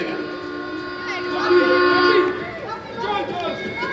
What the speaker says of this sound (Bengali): হুইসেল দিয়ে ট্রেনটা চলে গেল।